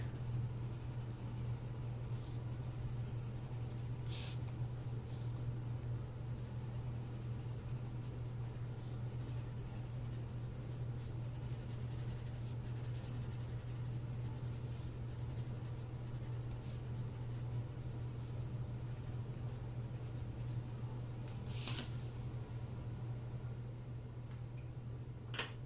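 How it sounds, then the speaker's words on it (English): A colored pencil lightly colors in small squares on paper, a soft continuous scratchy stroking with brief bursts of quicker strokes over a steady low hum. "Let's lightly color in these dark squares, but we're not going to burnish with this color"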